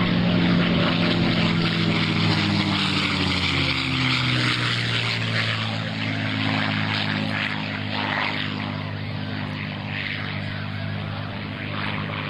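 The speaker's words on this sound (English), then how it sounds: "The most common of the airplanes, the P-51D." A P-51D Mustang propeller fighter flies at the 2004 NAS Oceana airshow, making a loud, continuous engine drone whose pitch slides and shifts as the plane passes.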